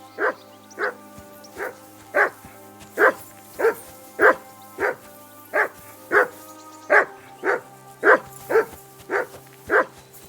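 Dog barking in the medieval video game Kingdom Come: Deliverance II, a loud close run of sharp, evenly spaced barks repeating about every half second for ten seconds over a low steady hum.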